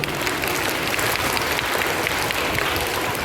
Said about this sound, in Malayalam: എല്ലാ കുട്ടികൾക്കും ഒരു വലിയ ക്ലാപ്പ് കൊടുക്കുക